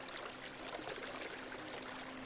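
River water flows in a faint, continuous rush with soft trickling and no distinct events, steady and even from start to finish.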